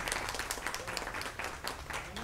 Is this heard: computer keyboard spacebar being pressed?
no